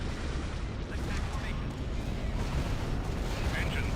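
Rapid repeating laser cannon fire from Quasar ships in a sci-fi strategy game battle, a dense, continuous crackle of overlapping blasts and booms that stays loud throughout with no talk.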